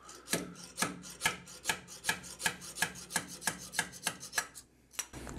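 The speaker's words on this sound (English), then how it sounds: "Just threading in a slide hammer and get the plug out." A slide hammer pulls a Delrin plug from a machined drink bottle adaptor workpiece, giving a steady series of sharp metallic knocks about twice per second, close and loud, with no voices.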